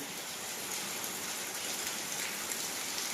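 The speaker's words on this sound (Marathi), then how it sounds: "पावसाचं आगमन झालेलं आहे. पाऊस आलाय." Steady rain falling, a continuous soft patter on surfaces with no pauses and no voices.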